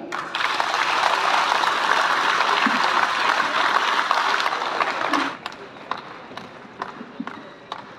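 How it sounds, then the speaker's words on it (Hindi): Audience applause at a prize distribution and closing ceremony of an all-India sports meet: dense, loud clapping for about five seconds that drops abruptly to a few scattered claps. "उनके सम्मान में एक बार प्लीज़ तालियां बजाएं।"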